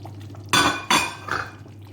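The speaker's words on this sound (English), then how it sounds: "I'm going to pour in my beef, my chopped beef," Chopped beef tipped into a pot of Cameroonian tomato stew, two loud sloshing splashes in quick succession followed by a softer clink of the utensil against the pot.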